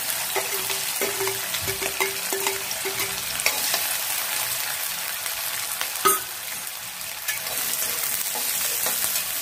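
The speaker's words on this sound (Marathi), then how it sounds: "आता हे 3 टेबलस्पून मी तेल गरम करून घेतलंय। मिरची घालते, कांदा घालते" Green chili and onion fry in three tablespoons of hot oil, a constant dense sizzle with occasional stirring scrapes and clinks of a utensil against the pan.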